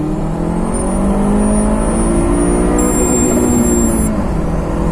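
A car with an open Varex muffler accelerates hard in second gear, the engine note rising steadily and loud with a whirring whine, close to the listener.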